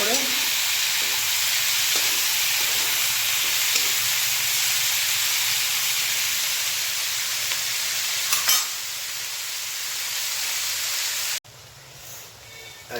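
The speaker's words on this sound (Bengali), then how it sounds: "হয়ে গেল পেঁয়াজ, একটু ভেজে নেবো লাল লাল করে।" Onions fry in a pan until reddish for a goat meat curry, a loud, even sizzling hiss that holds steady for most of the stretch before cutting off abruptly, with no one speaking.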